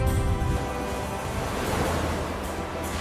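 Sea waves surge and wash onto a beach in a steady, loud roar of surf, with no voices present.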